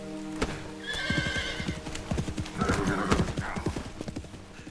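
A horse gallops and whinnies in the rain in the video game Metal Gear Solid Delta: Snake Eater, with rapid, close hoofbeats running throughout and a loud neigh near the start.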